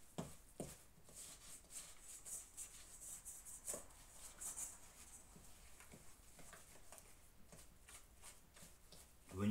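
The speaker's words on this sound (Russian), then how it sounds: "Хорошенечко его перемешиваем, все вот это," Homemade rocket fuel of perchlorate, aluminium powder and polyester resin being stirred by hand, a steady run of soft scraping, shuffling strokes at close range, fairly quiet, with no talking.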